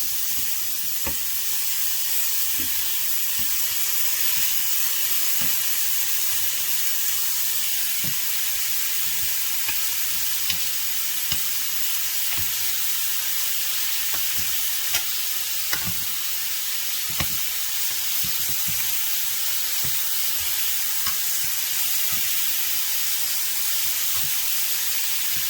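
Shrimp and Italian sausage sizzle and fry steadily in a hot pan for a creamy penne dish, a dense continuous hiss broken by frequent sharp pops and spatters, close and loud with no voices.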